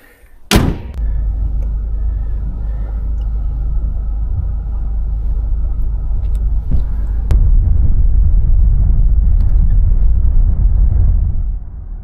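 A Mercedes-Benz GLE 300d (W167) pulls onto the road: a door thuds shut, then a deep, steady road rumble and engine drone continue from inside the cabin, growing slightly louder partway through.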